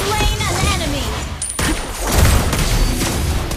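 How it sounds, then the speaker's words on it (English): Gunfire from Lesley, a sniper hero in the mobile game Mobile Legends, crackling in dense bursts with booming impacts, mixed with game music and effects and a voice talking over it. "I'll shoot you with one gun!"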